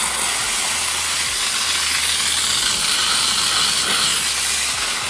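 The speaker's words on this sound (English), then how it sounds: "Just be careful if you have a steamer that shoots out a bit of water before the steam does." A steam cleaner hisses continuously while cleaning the interior of a Forester car, a loud, steady rushing jet of steam with a faint low rumble underneath and no voices.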